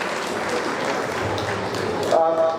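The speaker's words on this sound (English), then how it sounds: "Round of applause for Rochelle, please." A gala audience at a Jamaica 60 Diamond Jubilee celebration gives a round of applause, moderate and fairly distant, with a voice briefly heard near the end.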